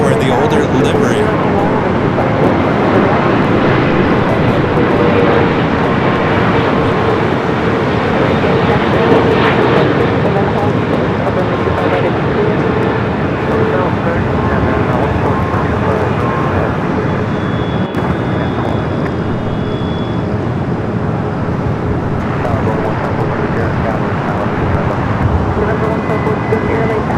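EVA Air flight 16 from Taipei, in the older livery, arriving at Los Angeles airport: a loud, sustained jet engine roar that holds steady throughout, with speech detected beneath it.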